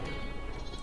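A sheep bleats in the Flockers video game, one short close cry that lasts under a second and stands alone over a dense game backdrop.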